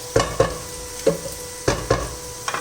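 Garlic lightly frying in a pan for a Thai clear soup, with a soft sizzle underneath and several distinct scraping stirs of a spatula at an uneven rhythm, close by.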